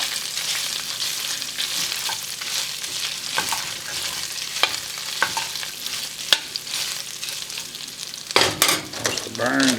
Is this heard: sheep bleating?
no